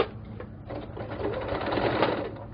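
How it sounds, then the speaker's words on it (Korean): Sewing machine stitching a zipper in place on a fabric pouch, a continuous rapid mechanical whirr of needle strokes running steadily at close range with no talking. "얘를 놓고 재봉틀로 고정을 합니다"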